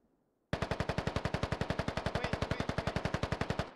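A loud, close automatic weapon fires one long, evenly spaced burst of roughly thirty rapid shots in the military shooter game Squad, starting abruptly after a brief quiet moment.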